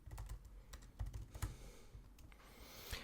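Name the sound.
typing an image description on a computer keyboard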